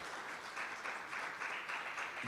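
A round of applause at a certification event in Jamaica, faint and distant, a soft continuous wash of clapping with gentle swells throughout.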